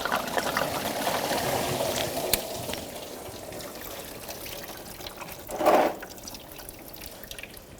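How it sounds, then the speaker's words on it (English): Coolant drains from a disconnected radiator hose on a 2007-2017 Jeep Patriot 2.4L into a catch basin, a faint steady trickle with a brief louder splash partway through and no talking. "And here comes the coolant."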